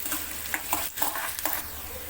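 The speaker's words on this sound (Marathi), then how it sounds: "जीरा, कांदा, कांदा लालसर होईपर्यंत भाजून घेऊया." Onions fry with cumin in a pan, giving a continuous close sizzle with small stirring scrapes and crackles throughout a short stretch, with no talking.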